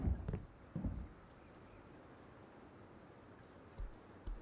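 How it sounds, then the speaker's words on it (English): Rain falling in the survival video game Rust, a faint steady patter throughout, broken by a few soft thuds near the start and end. "It starts raining"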